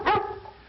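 A big dog barks once, close and loud, a single deep woof that fades into quiet room tone with no one talking.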